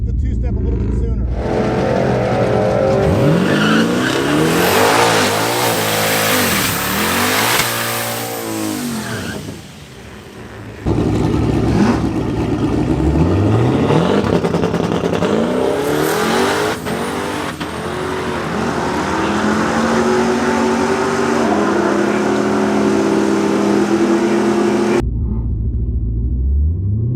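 Drag car on a two-step launching, with loud revving and rumbling engine noise that rises and falls, a brief dip near ten seconds, then a sustained roar; people talk over it before it cuts to near silence at the end.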